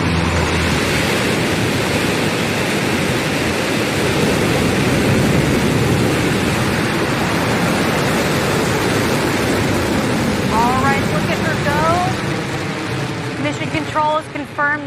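Blue Origin New Shepard rocket engine roaring at launch, a loud sustained broadband rumble that holds steady throughout, with faint voices and radio chatter coming through over it near the end.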